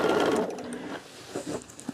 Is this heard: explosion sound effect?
no